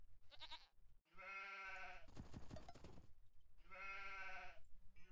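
Sheep and goats bleat in the Age of Empires 2 strategy game, with three loud, harmonic bleats: one short cry, a longer drawn-out call, then a final bleat. A brief noisy game effect falls between them.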